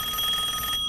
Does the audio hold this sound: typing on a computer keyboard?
no